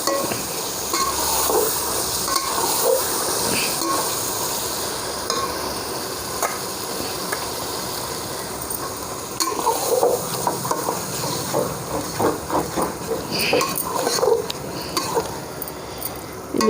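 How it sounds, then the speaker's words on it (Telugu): Spices with turmeric for tahari stirred and frying in a pot, a steady close sizzle with scraping stir strokes that grow busier and more clattery in the second half, no voices. "ఇవన్నీ వేసిన తర్వాత ఇలా కలుపుకోవాలి."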